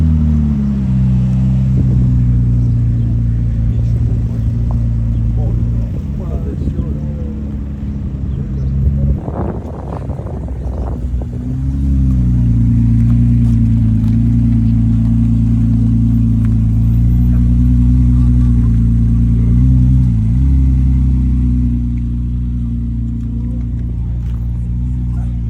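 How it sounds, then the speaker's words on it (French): A Ferrari 296 GTB with a V6 hybrid powertrain holds a loud, low, steady engine drone nearby, with a short rougher burst partway through and no clear high revving. "296 GTB, la toute dernière Ferrari,"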